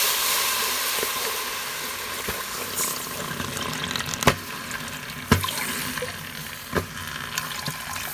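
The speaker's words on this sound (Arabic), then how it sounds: "من بعد ما كيذوب لينا السكر كنزيدو الليطرو ديالنا ديال الماء" Water poured into melted sugar in a pot for homemade honey syrup, a continuous rushing hiss and bubbling with a few sharp pops and spits, close and fairly loud, without talk.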